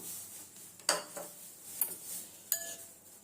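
Semolina soaked in milk is mixed in a bowl, with a few sharp spoon clinks against the bowl spaced between soft scraping, quiet and close with no talk.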